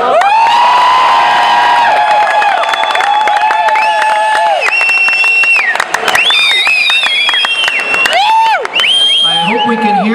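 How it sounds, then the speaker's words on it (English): A loud crowd at a performance cheers, whoops and shouts with high excited voices, continuous and close throughout, mixed with some clapping. "I hope we can hear them through all the cheering."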